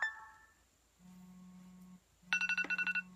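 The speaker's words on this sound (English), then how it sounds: "Whose phone is that?" A mobile phone rings in a school classroom with a steady electronic tone, then breaks into a loud, rapid pulsing melody of repeated beeps, close by, with no talk over it.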